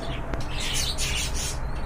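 Pigeons in a loft where a pair of racing pigeons with a chick and a red Rasgolla pair are kept, giving harsh squawking calls in a steady, fairly loud, close-by stretch with no talk over them.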